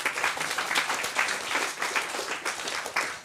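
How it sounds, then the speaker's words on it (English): Audience applause fills a lecture hall at a media conference in Leeds, with a dense, steady patter of clapping that holds at an even level throughout, with no voices on top. "I would give you a round of applause"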